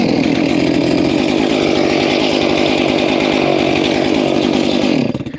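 A chainsaw cutting logs roars loud and close at full throttle for about five seconds, then cuts off abruptly.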